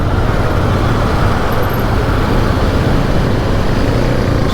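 Dense road traffic in Pune heard from a 2019 TVS Apache RTR 160 4V motorcycle, a constant loud rumble of engines and tyres with no break or quiet spell.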